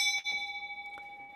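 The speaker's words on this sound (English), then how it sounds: "We want to ring our bell." A temple bell struck once, ringing out with a steady sustained tone and a slow shimmering decay, heard alone and fairly quiet in a calm space.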